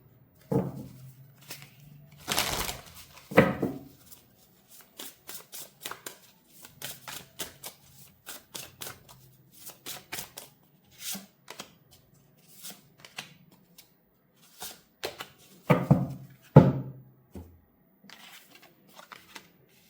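Tarot cards are shuffled and drawn by hand in repeated bursts of riffling and flicking, with quick papery slaps and pauses between them. The sound is close and fairly quiet, and no one speaks.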